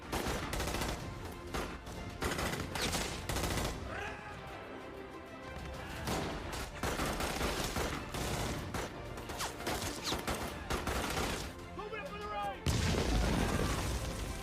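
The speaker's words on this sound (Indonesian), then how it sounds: "Dua pasukan Hiroshi tewas setelah digranat dan ditembak." Dense, nonstop gunfire and grenade blasts from a World War II battle film between Japanese and American troops, loud and layered, with a voice speaking over the barrage.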